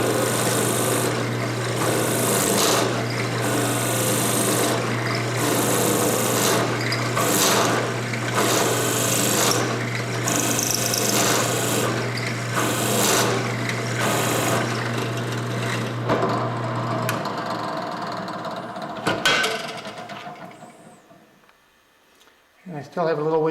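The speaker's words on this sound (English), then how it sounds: "now we're going to shorten this tube by just basically cutting it off till it gets down to the length of the other tube" A tube is cut down to shorten it with a powered tool that buzzes in a steady, rapidly pulsing drone for about seventeen seconds, then stops, leaving a few clunks and handling noises.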